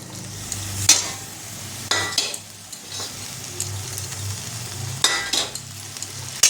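Fried potato and pumpkin pieces stirred into a sizzling pan with water added, spatula scrapes and clanks against metal recurring every second or so over a constant frying hiss, close up with no talking.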